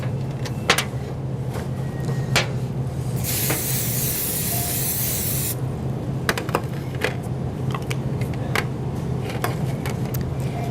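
Cooking spray hissing into an 8x8 square baking pan in a kitchen, one steady burst about two seconds long amid quiet clinks and handling noises.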